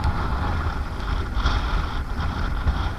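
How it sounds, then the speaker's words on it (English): Wind gusts across a lakeside shore by the sea at Saltom Bay in the Lake District, a continuous low rumbling buffet with swelling and easing gusts, loud and close, with no speech. "it's getting windier"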